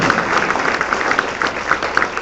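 A church congregation applauds together at a Sunday service, a steady continuous wash of clapping hands at moderate loudness with no break across the moment.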